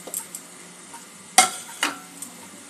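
Ground turmeric, chilli, cumin and coriander go into onion frying in a pan for an egg dhoka dalna. A soft sizzle sits under a few sharp clinks and scrapes from stirring.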